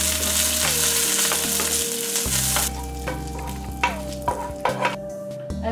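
Dry chilies and curry leaves crackle loudly in hot oil during a tempering with mustard seeds for South Indian egg curry, a dense steady sizzle followed by several sharp stirring clinks.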